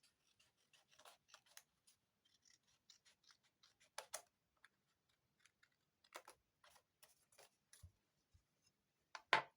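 Scissors snip and slide through a paper craft card in a quiet room, giving a series of small, close, irregular cutting clicks and rubs with a few sharper snips.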